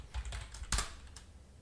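Quick bursts of keystrokes on a computer keyboard while typing code for a Python programming lesson, close and crisp, with a louder cluster of clicks near the middle and no talking.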